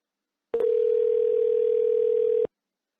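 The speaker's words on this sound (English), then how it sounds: "at this point, you should hear dialing" A steady, loud telephone dialing tone from a laptop speaker during a call placed through an agent web portal, a single continuous beep lasting about two seconds, heard alone.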